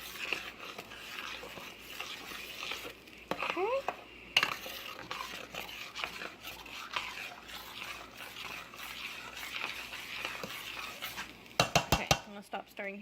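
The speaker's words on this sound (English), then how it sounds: "I have to stir so it doesn't stick to the bottom." Strawberries and sugar being stirred in a pot with a spoon, producing soft scraping and clinking against the pot, broken by a few sharper clanks near the end.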